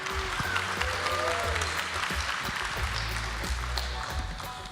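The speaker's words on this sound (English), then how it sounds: "please give a big round of applause for the first startup" A startup contest audience applauds the first startup at a tech conference finals, with steady, dense clapping filling the hall and a low hum underneath.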